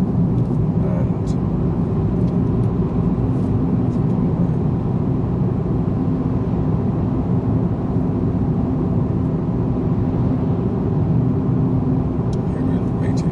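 A car cruises at a steady speed in fifth gear, giving a constant low road-and-engine drone that stays even and unbroken throughout, heard from inside the cabin.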